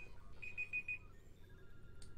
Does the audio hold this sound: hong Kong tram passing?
no